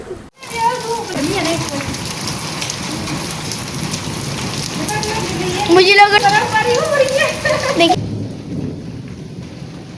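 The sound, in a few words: first summer rain with thunder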